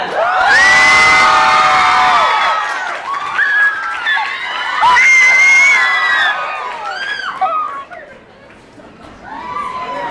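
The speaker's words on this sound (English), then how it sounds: "Please welcome, with a warm heart and big applause" A crowd at a holiday tree lighting cheers loudly for a singer's entrance, with high whoops and shrieks rising in waves, dipping, then surging again before settling into scattered shouts near the end.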